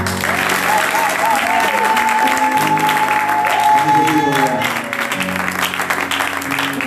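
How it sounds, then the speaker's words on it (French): A church congregation applauds and cheers loudly and continuously, with a dense clatter of clapping, scattered voices and a sustained high tone running through the crowd noise. "Je pense que même la sœur Rose n'a pas entendu vos acclamations"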